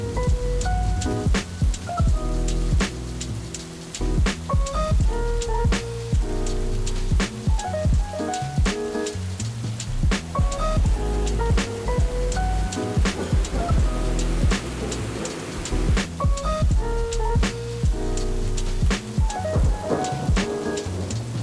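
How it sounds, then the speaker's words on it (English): Torrential downpour drumming steadily over a city street in Hong Kong, with dense rain noise throughout, occasional rumbles, and sharp clicks and knocks on top, loud and continuous with no voices. "It is torrential downpour right now."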